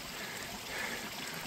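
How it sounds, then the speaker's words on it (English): A babbling mountain brook on a backpacking trail flows in a steady, close wash of rushing water, continuous and even throughout. "Little babbling brook."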